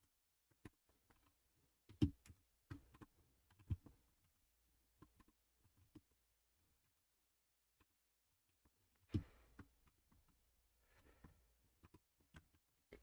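Typing on a computer keyboard while entering text in Notepad: scattered, quiet key taps and clicks in short irregular bursts with long pauses, fairly faint and close, no talking.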